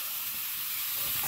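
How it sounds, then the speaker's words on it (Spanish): Chorizo sausages frying in a pan while cooking breakfast outdoors in the countryside, a steady close sizzle and hiss throughout with no talking. "ahí está ahora friendo los choricitos"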